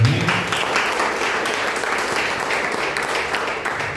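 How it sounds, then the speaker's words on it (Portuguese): Applause from a church congregation honoring Jesus during a Portuguese-language worship service, a dense, steady wash of many hands clapping at even loudness for about four seconds, with no voices over it. "Dê uma salva de palmas a Jesus."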